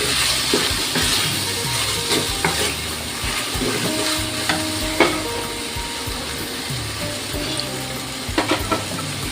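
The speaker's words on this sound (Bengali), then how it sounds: "এবার সমস্ত জিনিসটাকে ভালো করে কষাবো" Food sautés in a pan in a home kitchen, a continuous sizzle running throughout while a utensil stirs and scrapes in irregular strokes, close and fairly loud.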